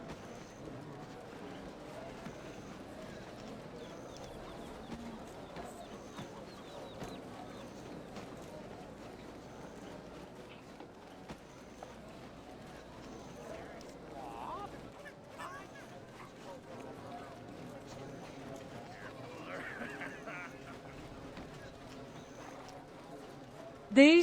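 A mounted horse in the online game Black Desert Online trots with rhythmic, fairly quiet hoofbeat clops that keep going for much of the stretch under a man's steady speech, with a brief whinny-like burst near the end.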